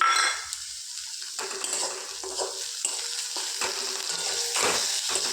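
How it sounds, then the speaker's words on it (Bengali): Pointed gourd and kundru fry in hot oil in a pan, giving a steady sizzle with scattered scraping stir strokes and light utensil clinks, close up and without any talking. "তেলটা দিয়ে কিছুক্ষণ ভেজে নেব।"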